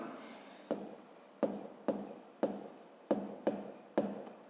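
Pen writing on paper during a fifth-grade math lesson, seven quick scratchy strokes in an even rhythm, close and distinct against a quiet background.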